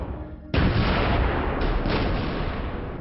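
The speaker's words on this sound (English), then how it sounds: "Right, I see artillery going in now" Artillery fire in a Stalingrad battle setting: a sudden heavy boom breaks in and then rumbles on as a loud, broad, sustained roar with a second swell partway through.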